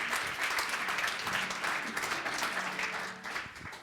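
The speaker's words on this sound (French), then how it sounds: "Je vous demande d'applaudir Véronique Morali" An audience at a leadership award ceremony applauds Véronique Morali, president of Fimalac Développement and Webedia, with steady, moderately quiet clapping that holds evenly for a few seconds.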